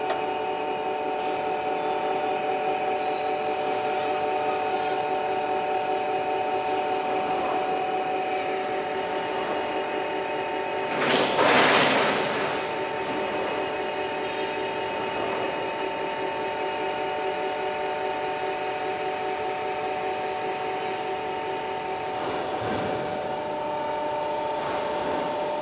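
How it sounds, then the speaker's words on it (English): A cable ladder roll forming machine runs with a steady mechanical hum and whine inside a factory, with a brief louder rush partway through and no talk. "let's move along the machine. We can see how it's running."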